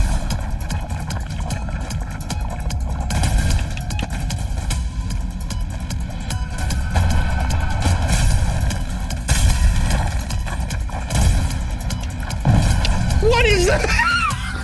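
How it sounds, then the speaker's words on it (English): A planet blows up in the platformer game Bionic Bay, giving a continuous rumbling, crackling barrage of booming explosions that runs throughout at strong volume beneath a person talking. "The planet explodes."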